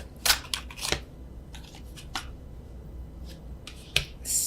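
Tarot cards are shuffled overhand, giving quick papery slaps and riffling snaps in short irregular bursts, close and crisp against a quiet room.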